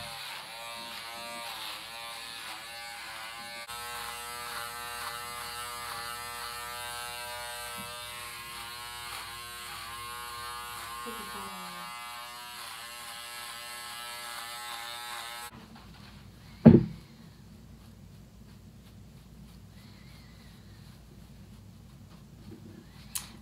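Small Wahl Peanut hair clippers buzz steadily while trimming a beard and mustache, a close continuous whine that cuts off partway, followed by near silence and a single sharp click.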